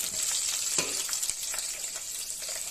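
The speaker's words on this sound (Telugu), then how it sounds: "మనకి ఆయిల్ వేడైపోయింది. దీనిలో మసాలా దినుసులు వేసుకోవాలన్నమాట. బిర్యానీ ఆకు, లవంగాలు, చెక్క, యాలకులు." Bay leaf, cloves, cinnamon and cardamom frying in hot oil for tomato rice, a close, continuous bright sizzle with scattered crackles and a few light stirring taps.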